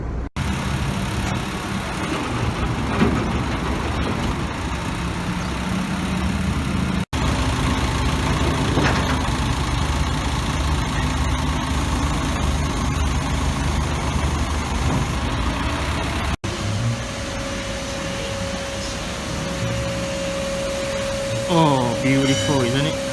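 A Honda Accord MK1 car running, a steady low engine drone that goes on throughout with a constant hum layered over it, and a few brief sounds near the end.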